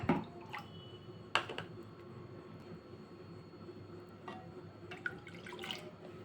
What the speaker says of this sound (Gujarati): એનામાં આપણે 2 કપ જેટલું પાણી એડ કરશું।